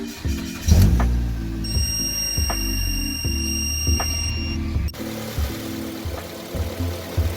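A Mitsubishi Lancer EX engine starts and idles steadily during a cooling-system bleed, a low close rumble with periodic clicks and a sustained electronic chime tone partway through.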